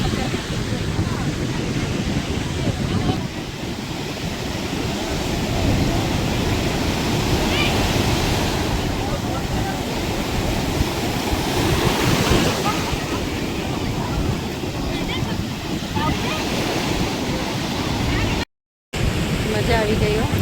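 Sea waves at Somnath beach in Gujarat, a steady, loud roar of surf washing in close by with wind buffeting the microphone throughout and people talking over it.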